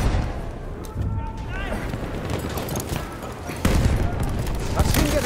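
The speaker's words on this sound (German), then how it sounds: "Maschinengewehr, eindeutig feindlich!" Enemy machine gun fire rattles in rapid, dense bursts amid a chaotic battle soundscape, loud and continuous, with voices shouting over the shooting.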